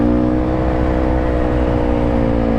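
A Yamaha Banshee 350 ATV with no rear brakes drones in a steady, loud two-stroke whine during wheelies, the engine held high and close without clear breaks or speech.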